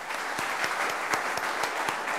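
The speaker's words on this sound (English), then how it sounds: "Please give yourselves a big round of applause." An audience at an employee excellence awards ceremony applauds in a dense, steady burst of many hands clapping, fairly close and even throughout with no voices standing out.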